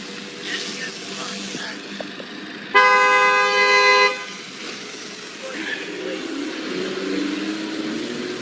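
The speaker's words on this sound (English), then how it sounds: "She's honking at me, I'm going to the police." A car horn blares in one long steady honk of about a second and a half, loud and close, on a street with traffic noise and people talking around it.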